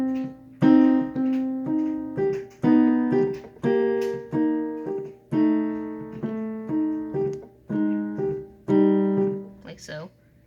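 A song is played on piano as a steady series of struck chords and notes, each ringing and fading before the next, close and clear with no other sounds.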